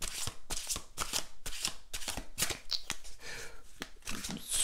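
Oracle cards being shuffled and drawn by hand, a run of crisp riffling flicks and soft slaps in quick bursts, close up, with no voices.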